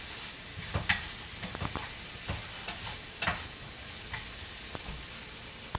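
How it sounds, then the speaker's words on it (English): Onions frying in neutral oil give a soft, steady sizzle, broken by scattered stirring clicks and scrapes from a utensil in the pan, fairly quiet and close with no voices. "I also have started, of course, onions in a neutral oil"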